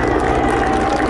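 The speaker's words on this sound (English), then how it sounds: "The military helicopter." Military helicopter passing overhead at a Little League baseball opening day, a loud continuous rotor and engine roar filling the whole short moment with no distinct speech.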